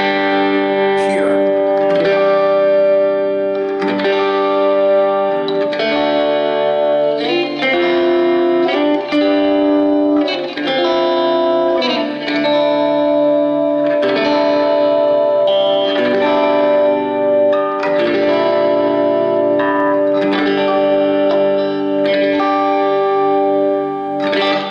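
An electric guitar played through a Little Lanilei 1/4 watt tube amp with reverb, into a Palmer PDI09 and a Bose S1 Pro, rings out chords and melodic lines continuously, loud and close with a reverberant tail.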